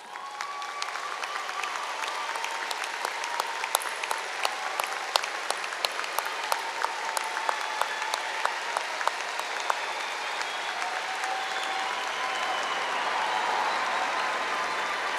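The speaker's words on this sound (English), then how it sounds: "may we give them a well-deserved round of applause" A large crowd at a high school graduation applauds parents and guardians with a long, even, somewhat distant roll of clapping, a few sharper claps standing out and occasional cheers mixed in.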